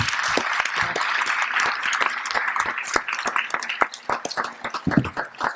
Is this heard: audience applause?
yes